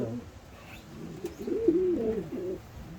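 Pigeons coo softly in a loft, several low rolling calls overlapping across a few seconds, close and moderately quiet, with faint background noise.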